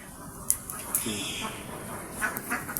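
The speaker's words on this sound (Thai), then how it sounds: "เป็ดไข่เนาะเยอ" Egg-laying ducks on a farm give scattered quacks over steady farmyard background noise, with people talking nearby.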